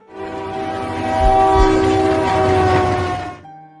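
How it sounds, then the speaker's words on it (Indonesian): A freight train rolls past close by, its horn holding a steady, loud blare over the deep rumble and rattle of the cars, fading slightly toward the end. "Tidak lama kemudian, Syahida melihat kereta api lain yang melintas."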